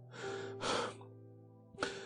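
Someone who has just run barefoot gasps for breath in three heavy, breathy pants, close and fairly quiet, with pauses between them and no words.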